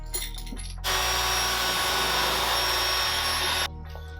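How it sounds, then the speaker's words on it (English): A power drill drills a hole in a Puch Magnum X kids' moped, whirring loudly for about three seconds, starting abruptly and cutting off, with faint handling noises before and after. "we have to drill that hole too for them"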